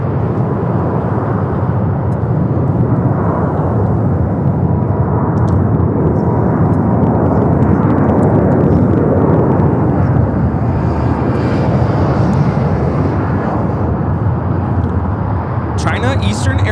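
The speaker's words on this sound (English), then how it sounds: "China Eastern Airlines 586 taking off to Shanghai on the 777-300ER on 7 left." A China Eastern Boeing 777-300ER takes off on runway 7 left at Los Angeles airport, its loud, continuous jet rumble filling the scene while someone talks over it.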